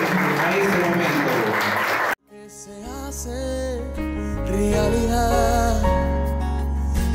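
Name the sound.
wedding guests applauding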